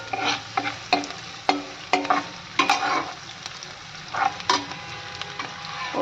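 Onions fry in a pan for Schezwan Maggi, a steady sizzle broken by repeated clanks and scrapes of stirring, close by with no talk.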